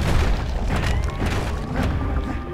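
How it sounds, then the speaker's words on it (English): A musket firing in the action video game Bastion, heard as loud, heavy booming blasts with dense rumble that fills the whole clip. There is no talk. "Now this is the musket, and it's really good for a few things."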